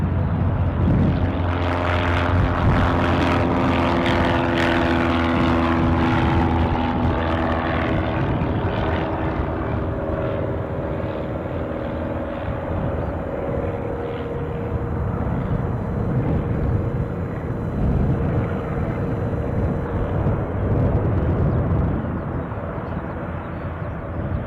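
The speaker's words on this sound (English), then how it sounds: "Chopper sounds emanating from." A helicopter at Aberdeen Airport gives off a loud, steady rotor and engine drone that fills the whole stretch without a break, with some tonal whine early on and no talking.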